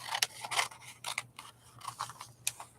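Paper snipped with scissors while fussy cutting an image out of a magazine: a run of quick, irregular crisp snips and rustles, close and fairly quiet, with a low steady hum underneath.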